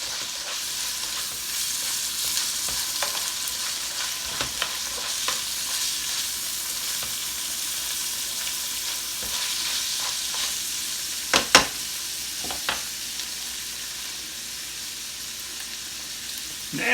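A cheeseburger casserole mixture heats in a pan with a steady, close frying sizzle. Scattered clicks and scrapes from stirring break through, with a few sharper knocks late on.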